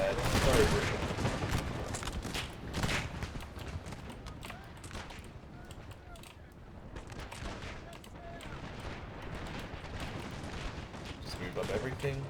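Cannon and musket volleys in Napoleon Total War ring out as British artillery pounds French lines, booming in dense, overlapping bursts throughout, with loud clusters near the start and end.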